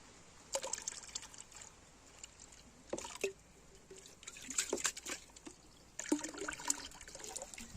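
Liquid poured into a fungal fermentation mix with molasses, giving a soft watery trickle with several splashy surges that come and go over a faint background.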